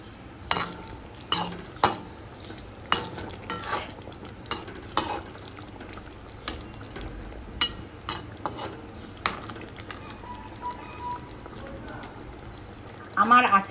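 Pre-fried kajuli fish being stirred into a bubbling eggplant curry in a pan, with repeated sharp clinks and scrapes of a metal spoon against the pan over a soft simmering sizzle, close by.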